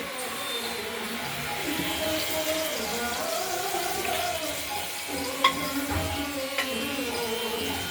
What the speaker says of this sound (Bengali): লালটা ভাজা হয়ে আর এই বড়িটা ভাজা হয়ে গেছে